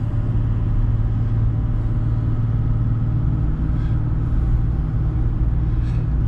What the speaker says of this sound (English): Driving a lap of Mount Panorama.